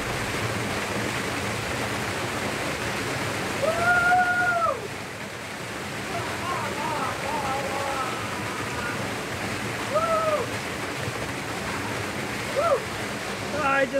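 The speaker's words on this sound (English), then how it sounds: "Waterfall in the jungle. So refreshing." A jungle waterfall pours as a steady, broad rush of water close by, with a few birdlike whistles briefly rising over the continuous roar.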